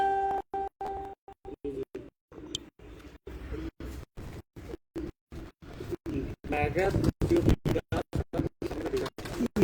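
Pigeons on a rooftop loft coo repeatedly in soft, low bursts, with someone talking over them throughout and occasional wing flutters and scratches.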